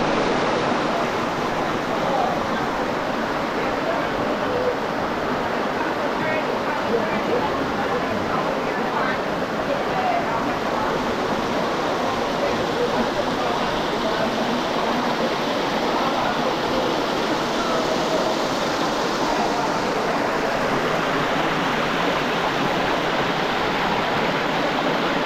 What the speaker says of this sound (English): Listening to the sound of the water running through the rock give you peace and comfort to your brain.